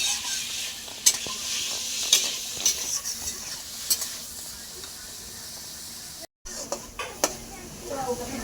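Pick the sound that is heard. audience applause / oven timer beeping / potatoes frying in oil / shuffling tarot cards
potatoes frying in oil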